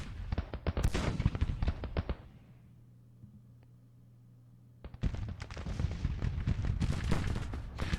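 Artillery and rifle fire pound a gun line in the Grand Tactician: The Civil War strategy game, dense rapid booms and cracks that drop out for a few seconds, leaving a low hum, then return loud and continuous.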